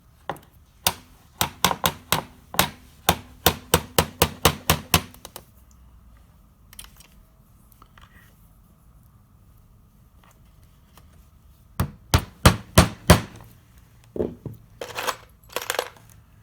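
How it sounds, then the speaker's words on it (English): Nails are set one by one along the bevels of a stained glass panel to hold a zinc outer bar, each making a sharp metallic tap; a quick run of about a dozen taps, a quiet pause, then another short cluster. "I'm going to place a nail near each one of these bevels"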